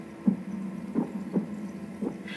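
Heartbeat sound effect from a Nintendo E3 2019 trailer, four dull low thumps at a slow, slightly uneven pace over a faint hum, moderately loud.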